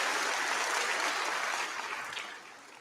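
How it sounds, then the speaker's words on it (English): Graduation audience applauding Dr. Newton, a dense steady clapping from a large crowd that holds strong and then tapers off toward the end. "Can I get another round of applause, please, for Dr. Newton for joining us?"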